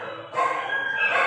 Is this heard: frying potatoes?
no